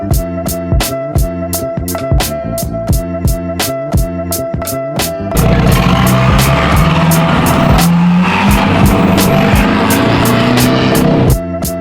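A Volkswagen TDI stance car drives toward an alignment rack, its engine droning steadily under repeated sharp clicking, then swelling into a louder, continuous road and engine roar that holds to the end.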